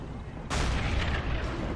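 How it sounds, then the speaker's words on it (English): A Flak 88 anti-aircraft gun fires shells in the Men of War: Assault Squad game during the 1944 siege of Budapest. A sudden heavy boom lands over a low rumble of battle and then rolls off. "Flak 88 continuously pumping out shells"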